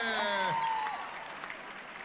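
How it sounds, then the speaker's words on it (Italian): Applause from an audience at a Caritas Assisi charity evening, rising under a voice at the start and continuing as a steady broadband patter of hands. "Applauso bello forte, qui."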